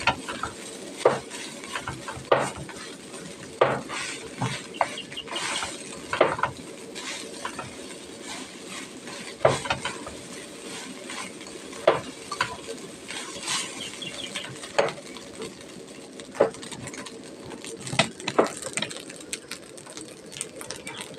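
Leftover rice is sautéed in a pan, with a continuous soft sizzle broken by frequent scraping and tapping strokes of a utensil against the pan, close and moderately quiet, with no one speaking.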